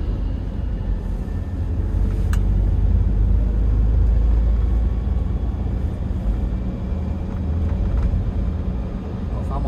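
A Toyota Innova with a 2KD diesel engine drives along while shifting through second and third gears, giving a steady low engine rumble with road noise throughout.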